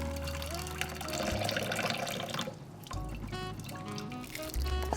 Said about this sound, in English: I want to drain this water.